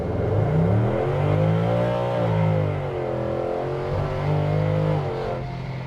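A custom 1955 Ford F100 pickup with a swapped Coyote V8 revs and accelerates hard, its engine note climbing and falling in pitch through several gear pulls, loud and close throughout.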